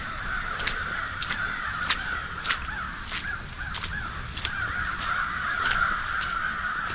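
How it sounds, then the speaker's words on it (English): A murder of crows caws repeatedly in the woods, sharp calls coming in irregular bursts over a steady background hiss of forest ambience. "The murder of crows."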